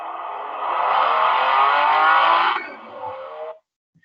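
A Mercedes-Benz car in a short ad speeds past with a loud rising engine roar and rushing whoosh that swells, cuts off abruptly, then trails into a softer tail before silence, with no voices.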